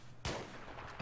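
A single loud gunshot in the video game Battlefield 3, sharp and close with a short decaying tail, followed by a faint second report at the end.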